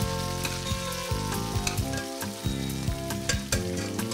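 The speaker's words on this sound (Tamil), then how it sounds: "இந்த தக்காளி பழமும் வெங்காயமும் அதே மாதிரி இஞ்சி பூண்டும் கொஞ்சம் ஒன்றா குக் ஆகட்டும்" Tomato, onion, ginger and garlic fry together in a pan for vegetable biryani: a loud, continuous sizzle broken by regular clattering stirs of the spoon against the pan.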